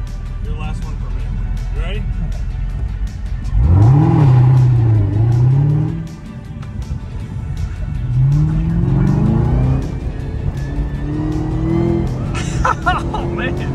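A heavy hot rod car on hot, greasy tires accelerates hard, its engine roaring loudly in rising revving bursts with a pause between runs, while people talk over it.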